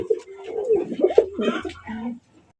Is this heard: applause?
no